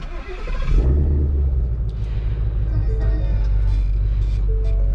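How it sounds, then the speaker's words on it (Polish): A Ford Mustang GT 5.0 V8 fitted with an MG Motorsport active exhaust fires up: a short starter whirr, then a loud, deep rumbling idle that holds steady and close. "sprawdźmy jak to brzmi i jakie można tutaj ogarnąć realne spalanie w tym samochodzie. Odpalamy."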